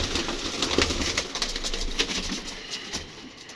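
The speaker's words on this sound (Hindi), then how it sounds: "तो माशाल्लाह ये कबूतर हैं दोस्तों" Pigeons in a loft call with soft, continuous cooing and some wing flutters, close and steady throughout with no talking.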